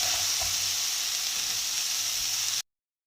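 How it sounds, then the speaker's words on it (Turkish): Drained chickpeas sizzle and hiss steadily as they are turned in a hot, dry pan with no oil, a close, continuous frying crackle with a faint scrape of stirring, cutting off abruptly near the end. "Evet tavamızın içerisine süzdüğüm nohutlarımı ilave ediyorum. Şöyle bir iki dakika yağsız olarak çeviriyorum."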